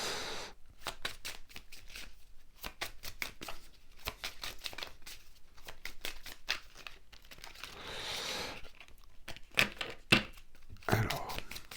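Tarot cards are shuffled and drawn by hand: a long stretch of quick, crisp riffling and flicking, close and fairly quiet, with brief pauses and a soft voice at moments.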